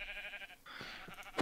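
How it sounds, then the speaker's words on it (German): Sheep bleating in Minecraft, a few short synthetic bleats over a steady game-music background, fairly close and moderately loud, with no talk. "Alter, wie viele Schafe gibt's hier?"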